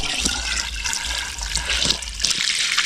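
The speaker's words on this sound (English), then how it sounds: "so we're priming now. Come on, throw water." Water thrown into a pump to prime it beside a low pond, a continuous splashing, gushing pour with uneven surges, close and fairly loud, with no voices.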